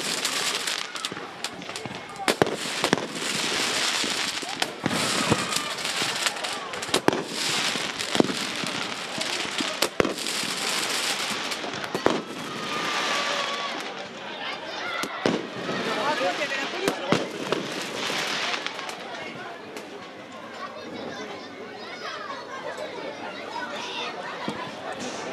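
Fireworks and firecrackers going off in the stands at a PSG versus Stade de Reims women's football match crackle and pop in dense, sharp bursts throughout, loud and continuous, with crowd chatter and a voice talking underneath.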